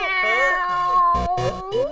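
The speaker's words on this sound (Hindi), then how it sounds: "सुना सकरू म्याऊं म्याऊं कर रहा है।" A cat meows in long, drawn-out wavering cries up close, loud and continuous, with a few brief thumps near the end.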